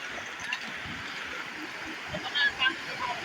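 A stream and waterfall near Kharghar in the monsoon make a steady broadband rush of flowing water, close and continuous, while people talk over it.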